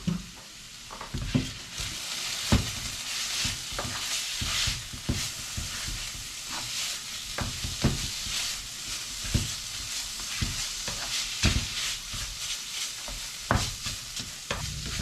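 Beef patty filling with tomato paste stirred in a pan: steady sizzling and frying with repeated scraping strokes of a utensil against the pan, close and without talk.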